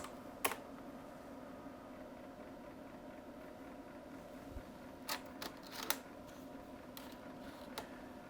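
Keys tapped on a 1990 Amstrad PC3086 computer keyboard, a few scattered faint clicks over a quiet steady hum of the machine, with long gaps between keystrokes.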